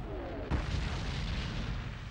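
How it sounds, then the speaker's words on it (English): Cannon fire from Vichy French forces defending Casablanca and Oran against British and American landings in North Africa, heard as a single deep boom and then a dense, rumbling barrage that carries on throughout. "the British and Americans are greeted with cannon fire from the Vichy French"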